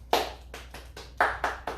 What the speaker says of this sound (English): Golf clap for Joe Burrow. Golf clap.